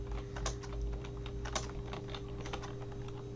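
Irregular quick keystrokes on a computer keyboard, close and fairly quiet, clicking in short bursts over a low steady hum, with no talking.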